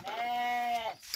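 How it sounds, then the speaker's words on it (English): A single goat or sheep gives one clear, close bleat in a farm pen in Panama, where goats mix with sheep. "I'm going to the pen now to show you the goats that I got."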